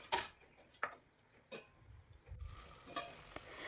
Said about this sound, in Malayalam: 2-3 മിനിറ്റ് കഴിഞ്ഞെടുത്ത് അത് ഇതുപോലെ ഇളക്കി ഫ്രൈ ചെയ്തെടുക്കണം